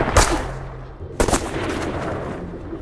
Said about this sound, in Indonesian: di belakangnya juga ada musuh yang langsung menembak Thomas